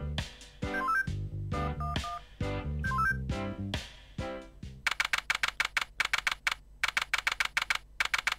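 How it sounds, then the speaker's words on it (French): A telephone is dialed in a prison escape video game, first a run of varied musical tones, then a quick rhythmic series of sharp clicking keypresses, fairly close and clear with no talk. "on va tester le téléphone."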